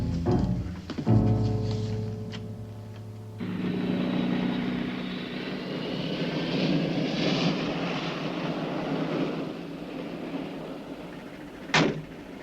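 A jet airliner at an airport roars in a sustained engine drone, starting after a couple of loud knocks and a clank, with a sharp thud near the end.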